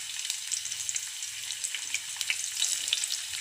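Onion dropped into hot oil with cumin and mustard seeds, a brief, crackly, close sizzle with tiny popping spatters throughout, steady and without speech.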